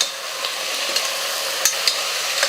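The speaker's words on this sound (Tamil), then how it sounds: "மட்டன் சேர்த்ததுக்கப்புறம் ஒரு 2-3 நிமிஷத்துக்கு வந்து நல்லா எண்ணெயில் வந்து வதங்கட்டும்" Half a kilo of mutton sautés in oil with browned onions, giving a continuous hissing sizzle broken by a few sharp clicks of stirring.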